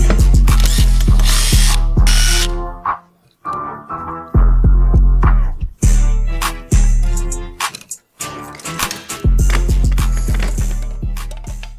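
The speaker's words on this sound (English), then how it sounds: "we got the wrench, and now let's take these off." A wrench ratchets loudly while removing the wheel bolts on an e-bike, heard close up as rapid clicking runs in several bursts separated by brief pauses.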